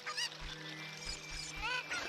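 In Ocarina of Time Randomizer gameplay, a chicken (cucco) lets out a couple of squawking clucks over a low game soundtrack, faint overall with repeated honk-like bursts at the start and end.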